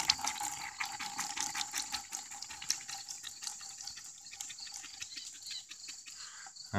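Water from a bee rinse jar used for a varroa mite wash is tipped into a white tub, a continuous faint splashing trickle of pouring liquid with no voices.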